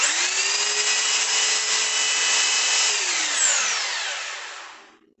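A hammer drill fitted with a hole saw and set to screwdriver mode runs with a steady high whine, then its pitch slides down as it winds down and fades out.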